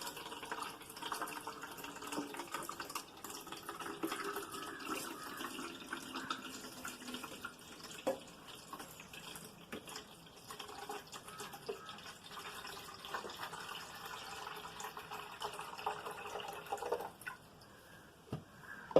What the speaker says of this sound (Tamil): ஸோ நம்ம ஃபுல்லாக ஐஸ் வாட்டர் ஊற்றிக்கிறேன் ஃபுல்லாக.